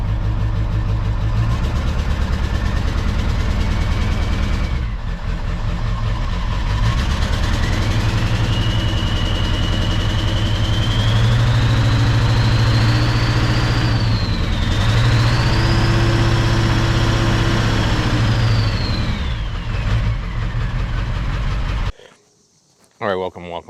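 A 7.3 diesel engine with a turbo, swapped into a truck in place of a 5.4, runs at idle and rises in revs. A turbo whistle climbs and falls over a steady low rumble before the engine cuts out near the end.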